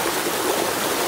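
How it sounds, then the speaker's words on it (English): A small waterfall at a creek campsite overflows during a flood, giving a loud continuous rushing roar of water pouring over creek rock, heard up close and alone. "our little waterfall ain't taking it"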